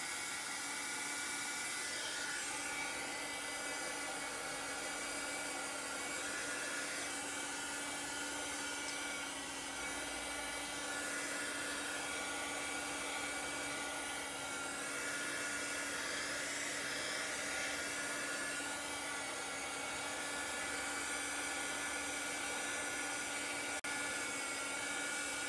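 Steady, loud whirring blow of a heat tool drying chalk paste on a square canvas pillow cover, running continuously and unchanged throughout with no pauses or talk.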